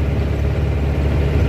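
A car accelerates along a road on a trip, its engine giving a steady low drone with constant rumble throughout, close and moderately loud, with no other sounds over it.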